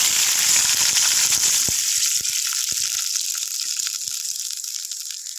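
Chopped onion frying in hot oil for a Kerala-style tempering in a home kitchen, a steady bright sizzle with crackling pops, close and loud, gradually settling.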